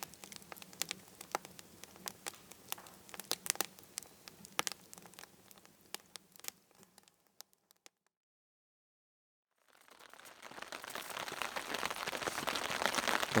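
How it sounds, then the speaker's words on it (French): Steady rain falls on a campsite in the Mingan Archipelago, sharp drops pattering close on a surface over a soft hiss, then dropping out briefly before a denser wash of rain returns, with no one talking. "Il a plu toute la nuit. Il pleut encore."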